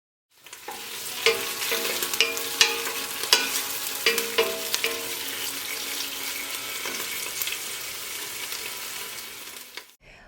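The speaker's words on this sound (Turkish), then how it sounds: "içine biberleri ilave ediyorum ve e, arada karıştırarak kızartıyorum" Peppers sizzle as they fry in a pot while a utensil scrapes and clanks against the sides in irregular stirring strokes.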